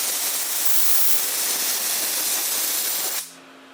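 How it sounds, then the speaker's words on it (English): Compressed air blasts loudly and steadily across wooden truck bed boards on a Ford F100 project for about three seconds, then cuts off abruptly, leaving a low steady hum. "I'm going to blow all this down"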